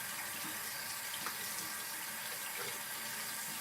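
Water runs steadily from a tap into a sink during rinsing, a soft continuous rushing hiss that stays even throughout and sounds fairly quiet, with no talking.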